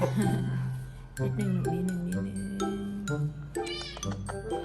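A cat meows repeatedly and insistently at a clinic where a cast is being fitted, giving drawn-out, wavering cries at close range, mixed with voices talking over and between the calls.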